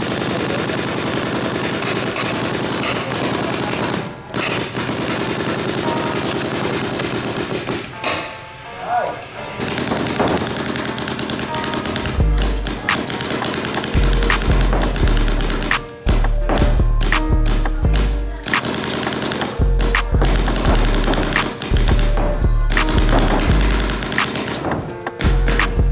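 Empire SYX and Vanquish GT paintball markers fire loud, close strings of sharp pops with deep thumps, coming in rapid bursts and separate shots, heaviest in the second half over a dense, noisy background.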